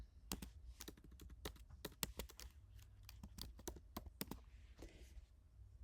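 Typing in all caps on a computer keyboard, a quick irregular run of close, crisp key clicks that slows with a short pause near the end, with no talking.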